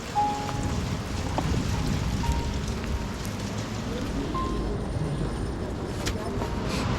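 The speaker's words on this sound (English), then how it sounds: "It is raining." Steady rain falls outdoors in a constant broadband hiss, with a few scattered drops and faint tonal noises mixed in and no clear voices.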